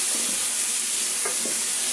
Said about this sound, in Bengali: বারবার ঢাকনা তুলে এভাবে নাড়িয়ে দিতে হবে, না হলে পুড়ে যাবে।